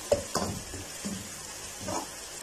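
Garlic frying in a pan for a brinjal bharta, a soft steady sizzle with a few spoon stirs and scrapes against the pan, fairly quiet and close with no talking.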